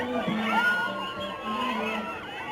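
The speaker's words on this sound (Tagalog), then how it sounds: "Grabe sigawan dyan, ha." A crowd of fans screams and shrieks for actor David Licauco at a Hong Kong event, with high cheering voices rising and falling over a couple of seconds, heard from within the audience.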